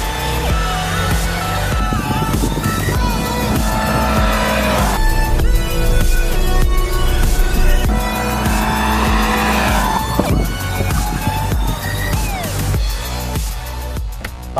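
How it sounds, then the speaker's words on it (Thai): A car on a test track launches hard with its wheels spinning freely and traction control cutting in: a loud, sustained engine roar that climbs in pitch, overlaid with squealing tyres. "โอกาสที่เร่งออกไปแล้วเนี่ยล้อจะหมุนฟรีตรงนี้เนี่ยระบบ traction control เนี่ยจะเข้ามาช่วยนะครับ"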